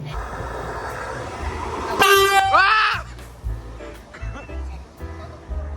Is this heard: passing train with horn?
yes